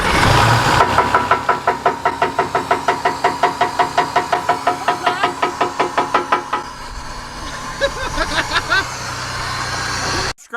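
A wrecked Ford Raptor engine runs loud and close with a steady, rhythmic knocking pulse for several seconds, then settles into a smoother, rougher running note.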